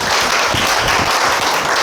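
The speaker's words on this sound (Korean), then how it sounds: "다시 한번 큰 박수 부탁드리겠습니다" Audience applause at a Korean beauty-industry appointment ceremony, a steady dense wash of many hands clapping at a loud, even level for the whole stretch with no voices.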